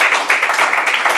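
A church congregation bursts into applause, a brief, loud wash of many hands clapping in uneven surges.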